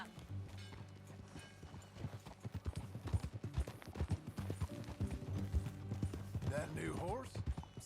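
Rhythmic clip-clop of horse hooves trotting steadily in a bounty-hunting video game, mixed with game music and a brief whinny, with people talking over it.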